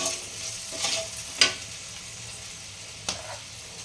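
Coriander, cumin and dried chillies frying in a pan over low heat, giving a soft steady sizzle with a few sharp stirring clicks of a utensil against the pan.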